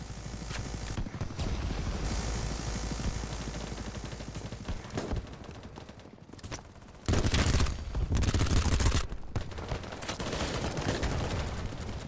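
Gunfire in the video game Battlebit: dense, rapid automatic bursts crackle loudly and almost continuously, with short pauses between volleys and a heavier, louder stretch of shots near the end.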